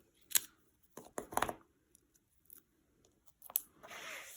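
Scissors snip through sticky foam pads for a card project in several quick, close cuts, some clustered in pairs, with quiet pauses and light handling rustle between.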